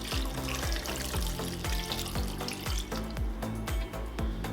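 Water poured into a soup pan of coconut milk on the hob, a steady close splashing flow with a repeating low rhythmic plop running throughout, no voices.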